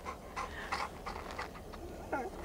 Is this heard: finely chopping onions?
no